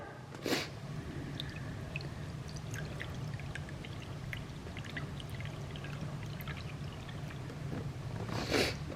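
Chicken broth poured from a carton into a cup, a steady close liquid stream running for several seconds with soft splashes at the start and end.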